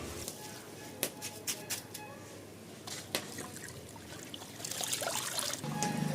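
Water trickling and dribbling from soaked rice set to drain in a basket while preparing Ambur-style dum mutton biryani, a faint steady trickle that grows louder toward the end.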